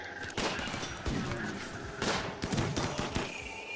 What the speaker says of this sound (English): I'm going to get these guys to shoot at these two.